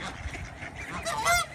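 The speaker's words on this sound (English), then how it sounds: "Oh, here come the geese" Several geese honk loudly and close by, a burst of overlapping nasal calls that grows toward the end.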